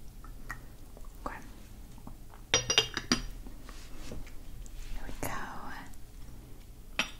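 A spoon stirs tea in a cup at a tea shop, giving a few soft, close clinks of metal on china amid quiet rustling and whispered talk.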